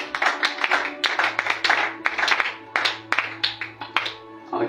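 A church congregation claps for Jesus in quick rhythmic bursts of handclaps, loud and close, with voices mixed in and a low steady hum underneath.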